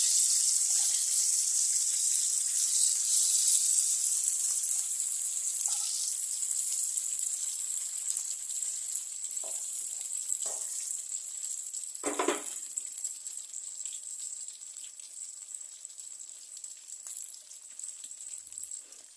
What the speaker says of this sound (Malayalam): എന്നിട്ടത് ഫ്രൈ ചെയ്തുകൊണ്ട് വരണം.